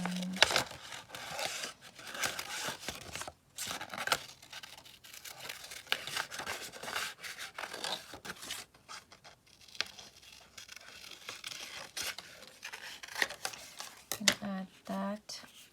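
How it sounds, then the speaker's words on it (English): Scissors roughly fussy-cutting around a paper image for a rustic craft project, giving soft crinkling snips and rustles in an irregular rhythm, close and fairly quiet, with brief bursts of speech near the start and end. "maybe I'll just cut out, just roughly fussy cut around this."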